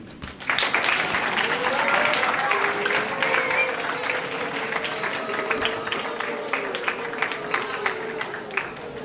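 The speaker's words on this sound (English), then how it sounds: "If we can give one more round of applause to our guests." A conference audience in Doral, Miami applauds with sustained, dense clapping that swells quickly and holds steady, with a voice speaking over the clapping in the room.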